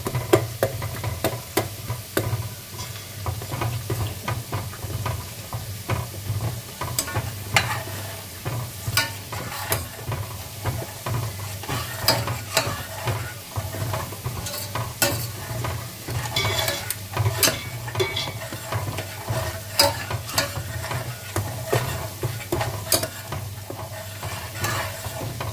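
Mango pickle (avakai) ingredients frying in a pan while being stirred steadily, a continuous sizzle with repeated scraping strokes of the utensil running throughout at a close, even level.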